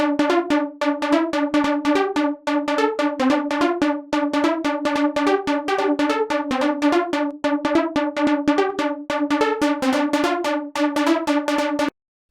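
A trance and hard house synth, its filter modulated by velocity and pushed with drive, loops in a rapid, loud run of bright buzzy stabbing notes with shifting pitches, cutting off abruptly at the end.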